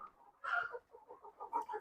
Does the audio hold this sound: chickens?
yes